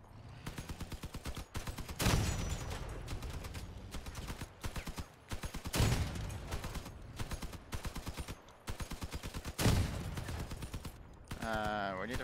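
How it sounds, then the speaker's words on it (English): Rapid machine gun bursts fire in the Crossout vehicle combat game, loud and nearly continuous with brief pauses, accompanied by heavier impact blasts around every few seconds and a rising mechanical whine near the end. "We need a few more machine gun shots, and there we go."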